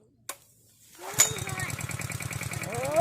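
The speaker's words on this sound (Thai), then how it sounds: "วิธีการติดเครื่องปั๊ม" A small water pump engine is started: a click and a pull, then the engine catches and runs with a rapid, steady knocking putter at close range, while someone talks over it.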